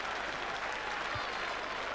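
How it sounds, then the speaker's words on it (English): Rugby crowd at a cup quarter-final between Llanelli and Bridgend applauding a try, a steady, fairly faint wash of clapping from a large stand with no clear voices. "The Straddy crowd are on their feet applauding that one"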